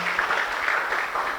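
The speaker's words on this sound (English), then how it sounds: "Let's give him a huge round of applause." Audience applause at a leadership lecture and book launch event, a dense continuous wash of clapping from a large crowd, steady and fairly loud with no pauses.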